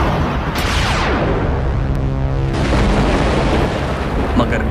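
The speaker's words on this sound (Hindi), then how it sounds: "तभी वहां पर एक तेज धमाका हो जाता है" Loud cartoon energy explosion from an anime battle, a sweeping rush that falls and then a heavy booming burst with sustained roaring rumble, close and dominant, with narration running beneath.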